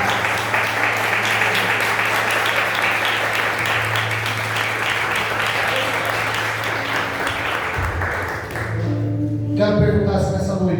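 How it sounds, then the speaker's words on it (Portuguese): A congregation applauds at an evening worship service, a loud, dense, sustained clapping roar with a low hum beneath, easing toward the end as a voice and music take over. "Você pode aplaudir Jesus nessa noite?"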